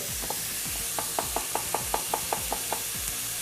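A knife chops garlic rapidly on a cutting board, about a dozen quick, even taps in a steady rhythm, close and fairly soft.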